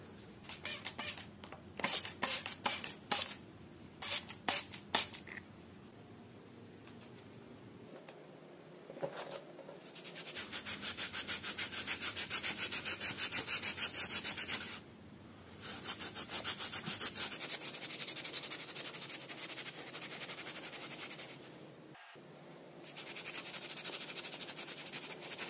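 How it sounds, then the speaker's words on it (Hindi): A motorcycle indicator lens being rubbed hard with a wet cloth and powder, giving long, steady, close scrubbing strokes with a few rapid rubs at the start and short pauses in between. "थोड़ा सा पाउडर लेके इसके ऊपर डाल के जस्ट आपने ज़ोर ज़ोर से इस तरीके से रब करना है"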